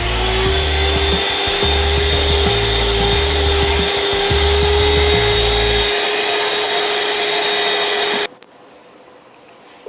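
An electric whisk mixing apple cake batter in a bowl, a loud steady motor whine with a pulsing low churn that eases off before the motor cuts out near the end, with no talk.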